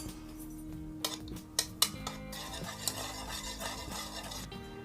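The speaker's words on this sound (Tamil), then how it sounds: "இதுக்கு வந்து ஒரு பவுலில் ஒரே ஒரு முட்டையை வந்து உடைச்சி வச்சுருக்கேன். இப்போ இதை வந்து கலக்கிக்கலாம்." A single cracked egg beaten in a bowl for rose cookie (achu murukku) batter: a utensil stirs with soft scraping and a few sharp clinks against the bowl, over steady background music, with no talking.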